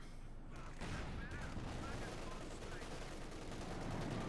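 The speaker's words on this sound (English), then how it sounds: "with that much firepower being leveled against it with grenades and light machine gun fire there" Light machine gun fire and grenade blasts from a Company of Heroes 2 match form a dense, steady barrage of rapid gunfire and booms. It runs continuously through the clip at a fairly low overall level, with a voice talking underneath.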